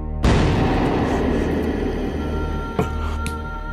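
A single loud, booming gunshot fired at a target, sharp at the start and then rolling into a long, low reverberating tail, with a faint second thud later on.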